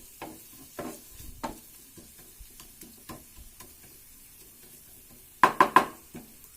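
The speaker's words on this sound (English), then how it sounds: "so that the onions and the masala is fried well" Onions and masala frying in a pan for brinjal in curd, with soft sizzling under a handful of quiet scrapes and stirs, then three quick louder metallic clinks near the end, close by and with no voices.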